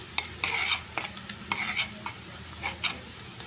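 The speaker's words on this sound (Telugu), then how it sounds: "ఉల్లిపాయలు ఫ్రై అయిన తర్వాత పసుపు వేస్తున్నాను పసుపు వేసుకొని ఒకసారి కలిపేసుకుందాం" Turmeric stirred into onions frying in a pan: quiet sizzling broken by several brisk, close bursts of spatula scraping at an uneven rhythm.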